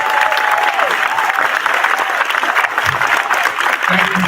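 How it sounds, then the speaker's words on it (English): An audience at an outdoor veterans plaza dedication ceremony claps together, a dense sustained round of applause, loud and full, with a brief murmur near the end. "Everybody give me a hand of applause."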